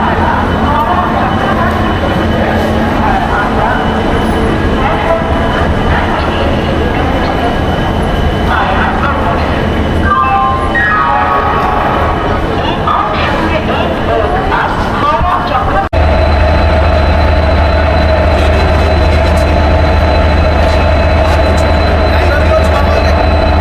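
The Howrah Chakradharpur Express sits at Howrah station. A steady, loud train rumble with a deeper engine drone joining midway plays under constant crowd chatter and nearby voices.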